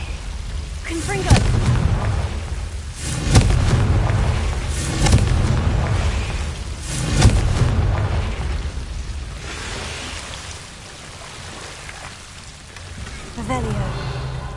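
Repeated fire-blast spell explosions in Hogwarts Legacy, a series of heavy booming bursts every couple of seconds over a rumbling, rain-like background, with some talking in between.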